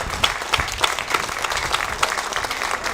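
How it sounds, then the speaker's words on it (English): Audience applause at the 2021 King Coal ceremony, with many hands clapping together in a steady, dense, fairly loud burst that lasts the whole moment without letting up. "Let's give them a big applause."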